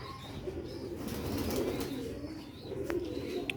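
A steady, low throaty cooing from several pigeons of the old Nooruddin breed fills the air alone, a continuous soft rumbling warble with faint bird chatter at a moderate distance.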